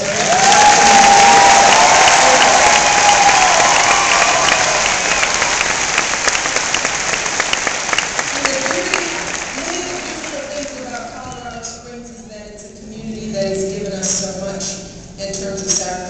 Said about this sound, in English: I want us to give Carla a round of applause for that